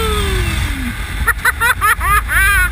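A Honda NC700X motorcycle engine revs up through a quick run of gear changes while overtaking on the road, loud and close over wind noise, with rising engine pitch in bursts.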